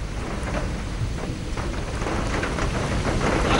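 Heavy nighttime downpour in the city, a dense steady roar of rain falling on surfaces that builds slightly, with no voices.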